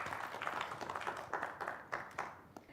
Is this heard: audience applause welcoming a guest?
yes